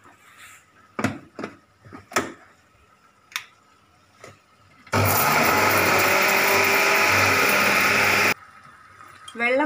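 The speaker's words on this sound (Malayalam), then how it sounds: "നമുക്ക് ഇനി ഇത് നന്നായിട്ട് പൊടിച്ചെടുക്കാം." A mixer grinder grinds cooked tomato thokku in one loud, steady burst of about three and a half seconds, preceded by scattered clicks and taps from handling the jar.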